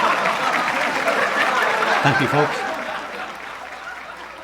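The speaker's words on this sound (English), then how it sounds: "pause for laughter and huge applause" Audience applause at a charity advocate's talk, a steady wash of clapping with scattered chuckles that swells around the middle and fades toward the end, while a voice speaks over it.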